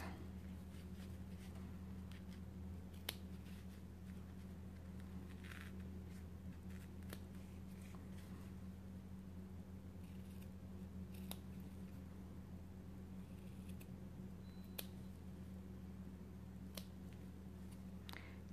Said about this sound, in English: you're going to cut straight down until you get to the edge of the foam